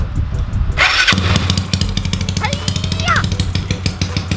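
Rebuilt motorcycle engine cranks and catches, then settles into a steady, loud idle with a rapid low pulse, while people talk nearby over it.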